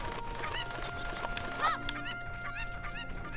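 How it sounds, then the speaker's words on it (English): A chicken in Ocarina of Time clucks and squawks in quick, agitated bursts, repeated sharp calls over a steady background hum and game music. "You're a very stressed out chicken."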